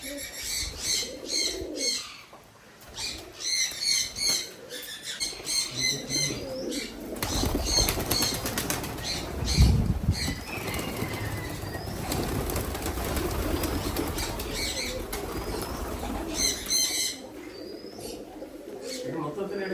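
Many pigeons at a farm flap their wings in a loud flurry in the middle, with cooing calls around it and a person talking over much of it.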